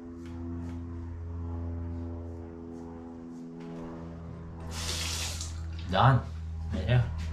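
Tap water runs while Wahl hair clipper blades are rinsed, a steady splashing stream over a low electrical hum, swelling briefly near the end with short louder gushes; a person talks softly in the background.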